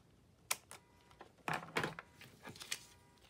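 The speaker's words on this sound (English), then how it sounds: "we'll trim off the excess on this side," Paper being trimmed by hand while making a one-signature envelope journal: a few short, crisp cuts and rustles spaced over a couple of seconds, close and fairly quiet, with no talking.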